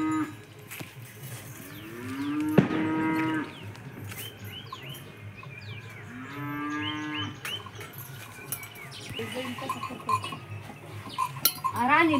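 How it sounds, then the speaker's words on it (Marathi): A calf and cattle moo repeatedly during a Bail Pola festival at a farm, with several drawn-out, loud bellows spaced across the span over a background of rustling and small clatter. "अरे वासरे का आवाज थांबत असते"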